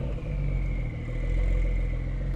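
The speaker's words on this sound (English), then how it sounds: "the car sounds refined even with how open and free-flowing this exhaust is" A Porsche 911 with a turbocharged engine and an open, free-flowing exhaust cruises at steady speed, giving a smooth, continuous low rumble with a faint sustained whine.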